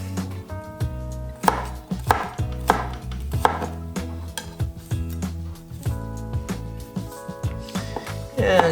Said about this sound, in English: And just mince that up really small.